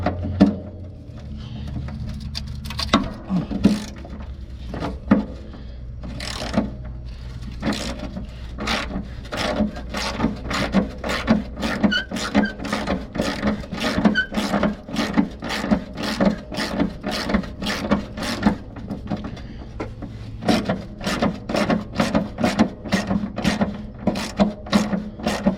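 Socket wrench ratcheting on a bolt of a Briggs and Stratton ride-on mower, a long run of close, rhythmic ratchet clicks that speeds into steady, rapid ticking with a low mechanical hum underneath, with no talking.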